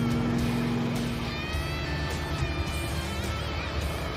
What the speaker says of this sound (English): Oh, yeah, that car is loud.